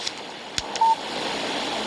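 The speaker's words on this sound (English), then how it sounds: "Text message from Barry" A phone in the video game Alan Wake gives one short, clear electronic beep for a text message alert, set against a quiet ambient hiss with a few faint clicks.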